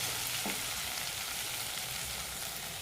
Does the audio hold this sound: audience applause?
no